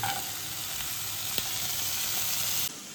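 Salo and hunting sausages fry in a pan for a hearty homemade fried-egg breakfast, giving a loud, steady sizzle heard close up that cuts off abruptly near the end.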